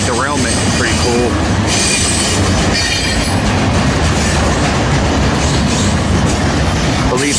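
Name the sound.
Norfolk Southern freight train 63B passing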